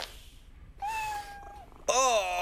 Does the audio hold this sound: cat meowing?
yes